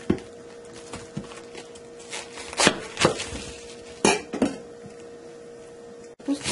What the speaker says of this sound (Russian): Капусту режем с двух сторон небольшими такими ножичками.